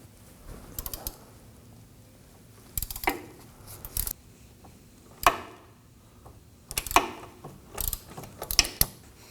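A 3/8 ratchet with a 17mm socket on a short extension breaks Nissan Murano rear hub bolts free, giving a handful of sharp clicks and clacks separated by quiet pauses.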